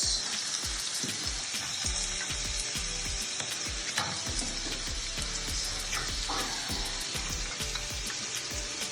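Peppers frying with caramelized onions in a pan for a Portuguese cataplana: a steady, close crackling sizzle, with occasional clinks and scrapes of stirring, alone without talk.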